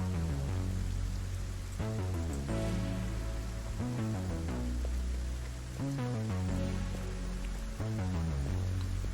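Steady rain hiss from the weather effect in the video game Satisfactory, a dense continuous wash beneath louder melodic background music with no pauses.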